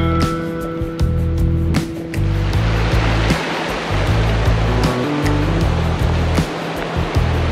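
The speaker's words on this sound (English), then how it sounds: "the second big river crossing" Rushing river water at a big river crossing on a rough road in Peru, where cyclists are passing through. A loud, continuous roar of flowing water is heard up close, with steady low rumbling and a few sharp splashes on top.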